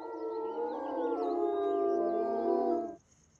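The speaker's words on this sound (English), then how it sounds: "Their howls can be heard more than 4 miles away" Wolves howl in a long, loud, sustained chorus of several overlapping voices rising and bending in pitch, then stopping abruptly, with no talking.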